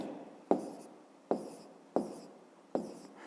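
Pen strokes on paper as a fifth-grade math solution converting ares to hectares is written out: four short, crisp scratching bursts at a regular rhythm, each fading quickly, close and fairly quiet with no talk over them.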